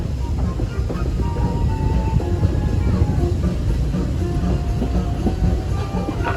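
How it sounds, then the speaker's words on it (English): The Walt Disney World Railroad train rolls into a station with a continuous low rumble and rattling wheels and carriages, steady and close throughout. "As we arrive into the station, please remain fully seated until the train comes to a complete stop"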